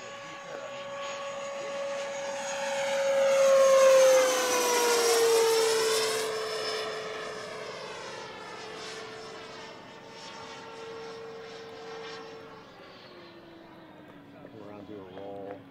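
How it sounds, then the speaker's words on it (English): A small electric ducted-fan model jet, an AeroFoam MB-339 with a 105mm fan, whines overhead, its pitch swooping down and then holding steady as it passes and recedes, loud then fading. "It's a really nice flying airplane."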